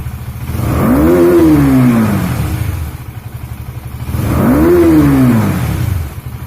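A KTM motorcycle engine revs hard to high RPM twice, each rise climbing steeply then falling back to idle, loud and close with no talking.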